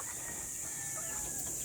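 Chickens on a farm cluck faintly amid a constant high-pitched hiss and background noise, the bird sounds soft and scattered rather than prominent.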